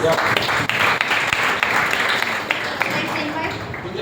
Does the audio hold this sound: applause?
yes